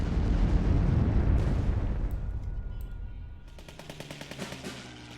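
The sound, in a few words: bombing attack in the video game KARDS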